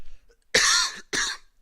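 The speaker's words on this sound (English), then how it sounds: "really sorry about those coughing" Two harsh coughs come in quick succession, the first longer and the second shorter, close to the microphone and otherwise alone.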